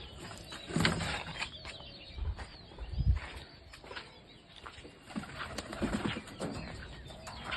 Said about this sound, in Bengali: এই যে কিছু জঙ্গলি পায়রা এসছে সকালবেলায় ছাদে